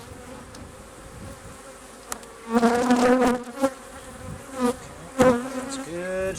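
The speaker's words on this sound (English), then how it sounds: "A lot of bees buzzing around me now." Honeybees swarm and buzz around an open beehive while a super is added and a smoker is in use, a steady close hum that swells louder in bursts, with a brief spoken remark.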